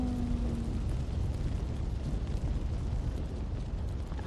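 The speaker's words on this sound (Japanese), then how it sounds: "あ、ちょっと今のところ爆竹の方がいいかな。" In the video game Sekiro, bursts from the firecracker prosthetic tool crackle and pop in a dense, continuous rumble over a faint tonal sound at the start.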